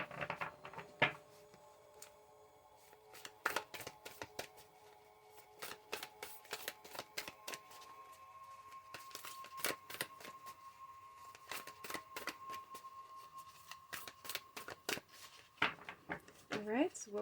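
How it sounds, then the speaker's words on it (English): Large, oversized tarot cards shuffled by hand in a series of brisk riffling bursts and soft slaps, fairly close and moderately quiet, with pauses in between. "It's almost kind of hard to shuffle these."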